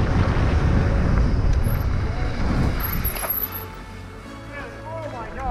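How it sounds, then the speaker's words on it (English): Strong wind gusts buffet the microphone of a mountain biker at Big Bear bike park, a loud rumbling roar that fills the first few seconds, then eases into quieter rushing air. "That wind hit me right up out of the air."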